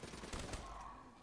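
Rapid gunfire bursts in a video game, a short rattling volley of shots heard close and fairly loud over a busy mix of game sound.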